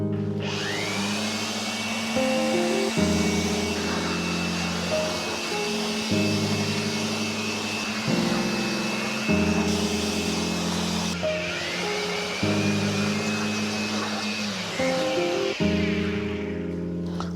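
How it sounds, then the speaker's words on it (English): A cheap handheld electric air blower runs steadily and loudly up close while blowing dust off a bike, its motor whine holding level with brief pitch shifts as it is throttled. "Get a blower like this. It's a very cheap one from Amazon."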